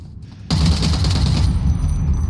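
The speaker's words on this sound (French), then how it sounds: "Ça tire par là." Rapid gunfire in the video game Nemesis breaks out suddenly after a short quiet moment, a loud, continuous automatic burst with dense rattling shots that keeps going to the end.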